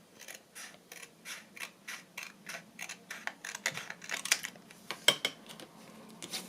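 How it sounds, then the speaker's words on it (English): Scissors snipping paper to trim a small handmade journal: about two dozen quick, crisp cuts in a steady rhythm, close and fairly quiet, with no talking. "Just going to trim a tiny bit off the bottom."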